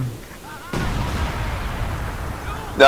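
Artillery bombardment in the video game Company of Heroes: a sudden heavy blast lands about a quarter of the way in and rolls into a sustained, loud rumbling barrage, with another sharp burst right at the end.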